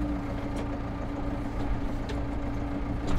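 A tractor engine with a front loader bucket pulls away from a standstill, giving a steady, close, low rumbling drone with little change in level and no voices.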